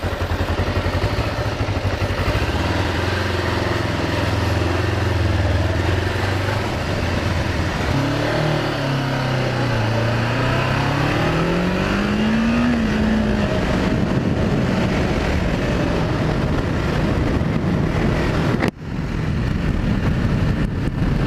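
Kawasaki Ninja 500R motorcycle heard from the rider's position, a steady engine drone with wind roar that rises and falls through gear changes and throttle sweeps, loud and continuous with no talking.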